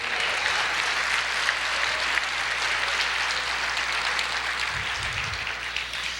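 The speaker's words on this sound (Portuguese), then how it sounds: "aplauda o Senhor" Congregation applauding in a church during a sermon, a dense, even patter of clapping held at moderate distance throughout, with no voices on top.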